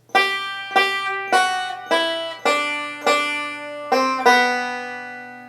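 A banjo plays a short melodic phrase from Joy to the World, about eight bright, ringing notes with a steady rhythm, each note sharply attacked then decaying.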